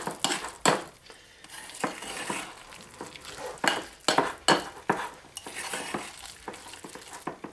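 A stiff potato and finely chopped onion mixture for fritters is stirred with a utensil, giving repeated scraping and scuffing strokes in an irregular rhythm, close and fairly loud, with no voices.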